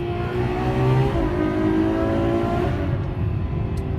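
A convoy of Ferraris heading toward Mugello and driving through a tunnel, their engines making a loud, sustained hum that swells as they accelerate, then eases off.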